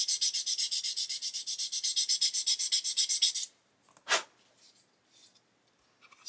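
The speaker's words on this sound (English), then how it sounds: "I'm going to sand over the top here" Sandpaper rasps over the wing seam of a plastic 1/24 scale Airfix Bf109 G-5/G-6 model kit in a quick, steady back-and-forth rhythm, close and fairly loud, then stops. A single brief scrape follows after a pause.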